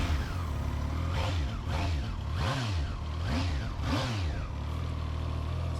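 A Triumph Trident motorcycle engine revs hard on the move, loud and close, its pitch rising and falling in repeated surges about once a second as the rider works the throttle.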